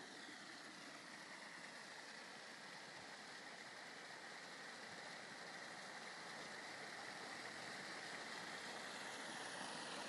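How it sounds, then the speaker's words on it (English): Steady broadband rushing of water beside the Trent and Mersey Canal, constant and fairly distant, with no voices and no break in the flow. "It's a nice sound of running water"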